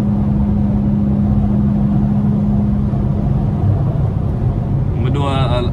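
An Infiniti Q50 3.0t twin-turbo engine and exhaust while driving, a steady loud low drone and rumble with a brief rising tonal whine near the end.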